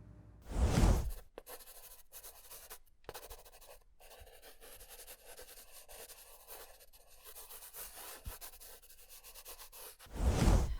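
Pencil or pen writing a sentence on paper, a soft continuous scratching and rubbing close up, framed by louder rustling bursts at the start and end.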